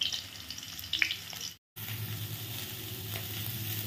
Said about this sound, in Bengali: তো ফুলকপিটা ভেজে নিই ভালো করে।